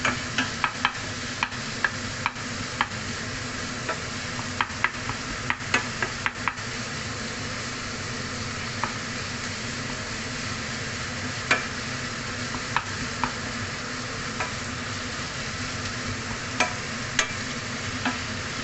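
Beef frying in a pan for spaghetti sauce, a steady low sizzle and hiss with repeated sharp clacks and scrapes of a spoon stirring, close by and continuing throughout.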